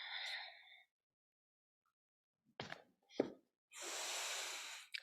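Slow, audible breaths during a grounding yoga practice: a long soft exhale, a pause of silence, a couple of short sniffing inhales, then a long airy exhale, close and quiet.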